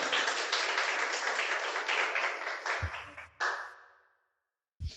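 Church congregation applauds in a broad, continuous burst of clapping that fades out toward the end, followed by a brief silence and a fresh sound at the close.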